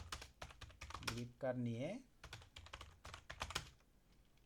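Quick clattering keystrokes on a computer keyboard in irregular bursts, close and fairly crisp, with a person speaking briefly partway through.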